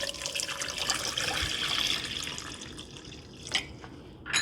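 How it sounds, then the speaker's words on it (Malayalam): Water pours into a pot of Kerala-style ripe mango pulissery curry, a steady close trickle and splash lasting a few seconds, with no talking. "ഇനി ആവശ്യത്തിന് വെള്ളം ഒഴിച്ച് നമുക്ക്"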